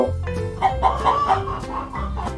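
Chickens in a children's story cluck in short, close bursts over a soft background hum.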